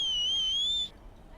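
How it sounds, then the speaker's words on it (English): A character in Red Dead Online gives a single steady, high, clear whistle lasting just under a second, which then cuts off into quiet background. "Yeah, that's my whistle."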